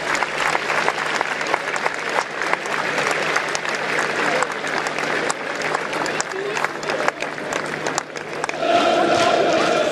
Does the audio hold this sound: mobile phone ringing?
no